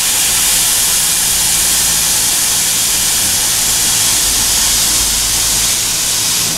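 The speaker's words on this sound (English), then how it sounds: "So this is my hydraulic lift table." A hydraulic lift table, an in-ground car lift left from an old automotive garage, runs with a steady, loud hiss and hum that holds for several seconds without a break.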